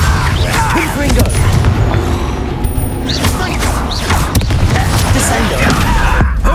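Hogwarts Legacy: the Confringo blasting curse sets off explosive booms and crashes in a loud, crowded mix, with voices talking over the battle.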